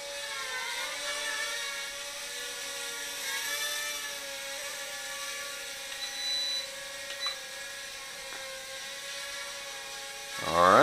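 A Flytecs X-Drone Nano quadcopter fitted with prop guards hovers close by, its rotors giving a steady, high whirring whine that holds throughout with slight pitch wobbles.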